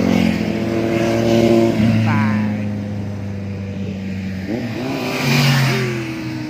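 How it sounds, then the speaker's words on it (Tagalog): A big motorcycle passes on a road during a Sunday group ride, its engine droning and rising in pitch as it revs by close up, then easing off, with a second rev swelling near the end. "Big bike."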